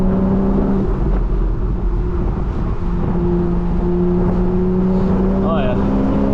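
A 2013 Porsche 911 Carrera S Cabriolet with its PDK gearbox in sport mode pulls through the gears; the engine is loud and close, its droning note rising and shifting pitch, and a voice speaks over it.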